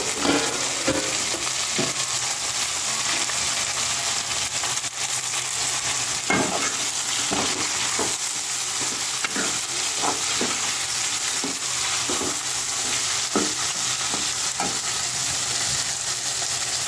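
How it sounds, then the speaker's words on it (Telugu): Small tomato pieces sizzle and fry in a hot pan of tempered spices, with a steady loud hiss and periodic scraping stirs of a spoon against the pan, close up and without talk. "ఇప్పుడు టమాటా ముక్కలు వేస్తున్నానండి ఒక నాలుగు టమాటాలు చిన్న టమాటాలు నాలుగు పోతానండి"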